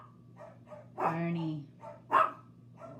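A dog barks close by, giving a couple of sharp, short barks, while a person talks quietly in between.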